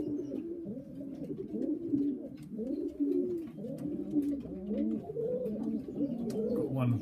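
Tippler pigeons coo steadily in a nest box, a continuous layered murmur of overlapping low, throaty calls from several birds close by, with faint background noise and no clear speech.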